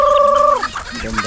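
Chickens cluck and call close by in a rural Filipino yard, one drawn-out tonal call followed by a few softer clucks, with faint background noise.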